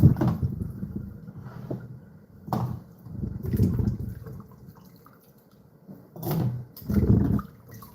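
Water splashes and drips as starch is rinsed from Indian tapioca, coming in uneven close bursts of sloshing and trickling separated by quieter gaps.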